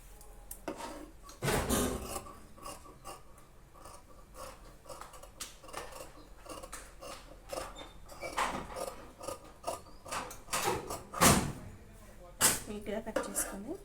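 Scissors snip and rasp through blouse lining fabric in a run of irregular cuts. Several louder, sharper strokes stand out, and a person talks over the cutting.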